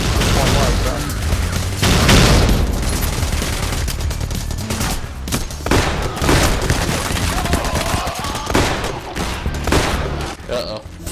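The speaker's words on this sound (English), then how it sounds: "Who's shooting me? The cops." Police gunfire in the heist shooter Payday The Heist: dense, loud bursts of rapid automatic shots and booms that run through the whole stretch, with players talking over the fight.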